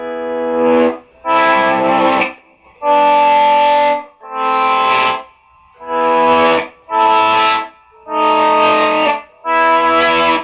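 Sustained, distorted electric guitar chords ring out in a slow sequence of about eight swells, each separated by a short gap, thick and layered-sounding.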